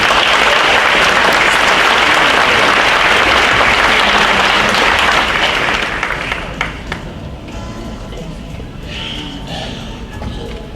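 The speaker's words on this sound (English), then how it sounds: "Let's give all of these transfer students a round of applause." Dense applause from an honors night audience for transfer students, loud and sustained for about six seconds before thinning to scattered claps and a faint murmur.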